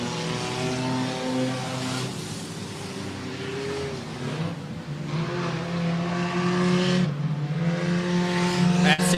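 Stock cars race in a Christmas-themed enduro at Kalamazoo Speedway, including the number 86 Napa Chevrolet HHR on the backstretch. Several engines drone steadily with rising and falling pitch, loud and close, with no voices over them.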